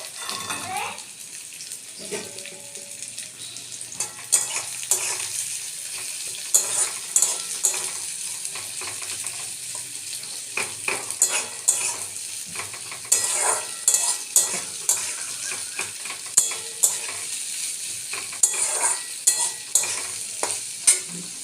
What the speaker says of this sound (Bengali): পেঁয়াজগুলো এবার ভালো করে ভাজা হয়ে যাক।